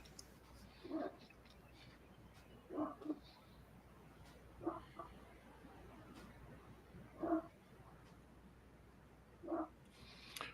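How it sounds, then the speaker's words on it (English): A dog barks faintly in the distance at a pool hall during an 8-ball match, with five short bark bursts spaced a couple of seconds apart over a quiet room. "I was wondering what that barking was."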